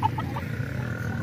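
Chickens kept by a Peruvian gamefowl breeder, a few short clucks up close at the start over low farmyard rumble, then quieter background.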